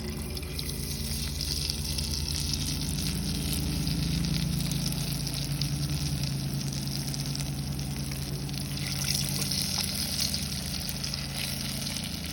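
Fish frying in hot oil, a steady close dense sizzle with fine crackling that holds evenly throughout without a break.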